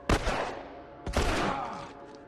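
Two loud pistol shots from The Last of Us, about a second apart, each a sharp crack with a ringing tail, close and alone with no talk.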